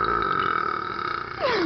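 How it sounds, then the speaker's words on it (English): A long, loud human burp drones at a steady pitch for over a second, then drops sharply downward at the end, close and alone. "How do you burp for so long?"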